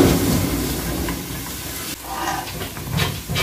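Chopped garlic and onion frying in hot oil in a pressure cooker, a steady loud hiss and sizzle that briefly dips, then flares up again with bubbling crackle as the onion goes in.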